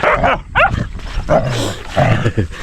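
Excited dogs bark and yip in quick bursts, fairly close, with some whimpering and background noise between the barks.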